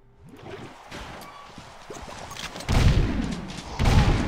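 Shotgun blasts in the video game Jak 3, several loud booming shots with two heavy blasts near the end after quieter scattered fire.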